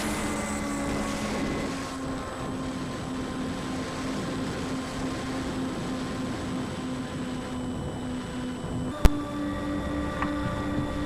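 A Skymule model aircraft in flight and losing altitude, its steady engine drone and propeller whine holding at moderate loudness with a sharp single click near the end.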